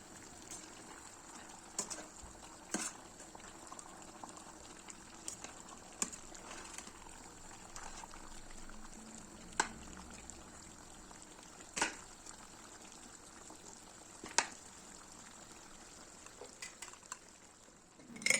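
Fried eggplant and peppers being stirred into a pot of sauce, with soft scraping and occasional sharp clinks of a utensil against the pot over a quiet, steady simmer.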